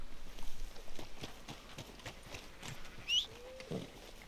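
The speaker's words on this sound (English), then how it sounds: "Hey, there's my horsey." A horse galloping up in the Red Dead Redemption 2 video game, with steady clip-clop hoofbeats on the ground that grow closer over a few seconds and a brief whinny near the end.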